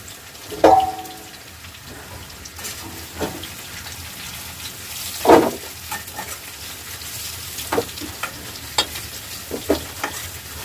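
Radish pieces fry in oil in a pan for a rupchanda fish broth with potato, giving a steady close sizzle broken by occasional sharp spoon knocks and scrapes, with no voices.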